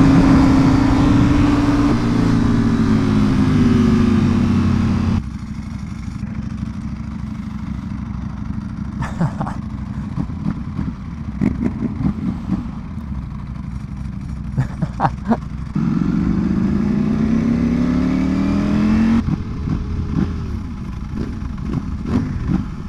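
Ducati V4R motorcycle engine revving up and dropping back in repeated rising sweeps, loud and close, with idle stretches between revs and no talk.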